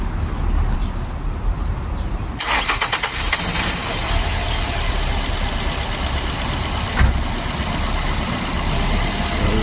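A 2005 Nissan Altima engine with sluggish performance cranks and catches around two seconds in, then settles into a steady, loud idle that runs on unbroken to the end.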